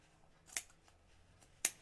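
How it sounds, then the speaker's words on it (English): Scissors snip through zipper tape while a bag is being sewn: two crisp, close cuts about a second apart in an otherwise quiet room. "let me trim my zipper tape right here"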